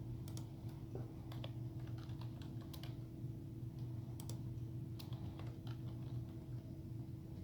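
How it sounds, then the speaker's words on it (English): Rapid, irregular keystrokes on a computer keyboard at a Windows 10 PC, clicking steadily for several seconds over a low, constant electrical hum, with no talking. "You can just hit Start and type Control Panel,"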